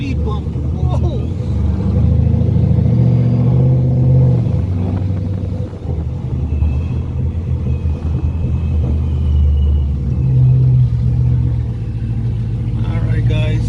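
A car running on catless exhaust pipes rumbles loudly and steadily throughout, its engine note swelling a couple of times, with voices talking over it.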